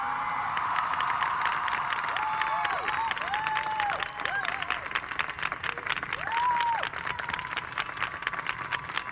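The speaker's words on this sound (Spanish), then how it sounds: "quiero pedirle un aplauso" A concert audience claps and cheers in applause for a singer, with scattered whoops rising over steady dense clapping throughout.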